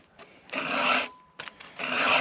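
A hand file rasps across chainsaw teeth through a 2-in-1 filing guide: two close, steady scraping strokes with a short pause between, heard alone.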